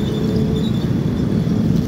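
Truck engine idling steadily, a loud continuous low rumble with no breaks, in need of an overhaul.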